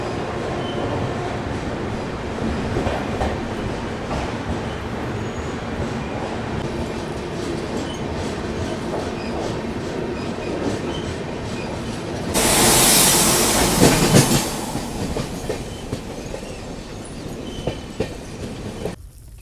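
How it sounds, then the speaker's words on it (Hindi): The New Delhi–Pondicherry Express rolls steadily through Rani Kamlapati railway station with continuous rumble and rhythmic clickety-clack of wheels on rail joints, then a loud, brief hissing rush midway before the steady running returns. "ये देखो अभी अपनी ट्रेन स्किप कर रही है रानी कमलापति रेलवे स्टेशन"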